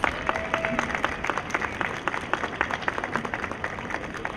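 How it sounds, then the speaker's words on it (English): Steady applause from an audience, quiet and somewhat distant, continuing without a break and with no talking. "Let's give them another round of applause."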